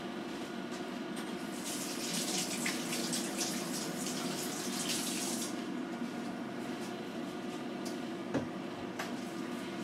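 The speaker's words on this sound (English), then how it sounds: "And again, rinse my hands." Running tap water splashes steadily over hands being rinsed in a home kitchen sink during bread making, a close, continuous gush that eases off partway through.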